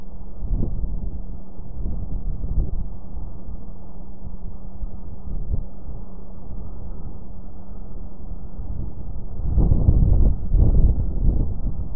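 Wind rushes steadily out over Lake Huron, a dense low roar buffeting the microphone with no clear gusts except a heavier surge near the end.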